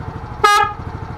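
A car horn fitted with an interrupter relay gives one short, loud blast of about a fifth of a second, close by, over a low pulsing engine-like hum.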